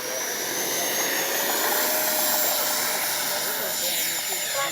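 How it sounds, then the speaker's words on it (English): An FMS 70mm F/A-18F electric ducted-fan RC jet flying outdoors in Florida, its continuous high whine holding steady with a slight pitch shift as it passes. "All right, take off again, one more. Fly around a little bit more, then land and get a battery report."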